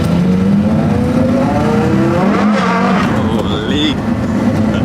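Inside a Mirage GT on a ride, the engine revs and accelerates with a loud, steady drone and sweeping pitch changes, with passengers talking over it.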